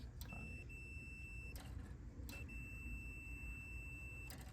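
Multimeter continuity tester chirping while leads are checked on an RV furnace limit switch wiring, two short high beeps a couple of seconds apart, faint against a low background hum.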